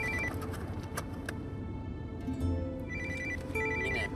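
A mobile phone ringtone signals an incoming call, a repeating electronic melody at moderate volume with short pauses between phrases, heard alone with no voices.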